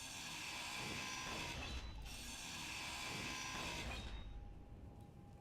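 Blocks being ground off with a grinder in the space survival game Space Engineers, a steady mechanical rattling whir in two bursts with a short pause between, fading out at the end.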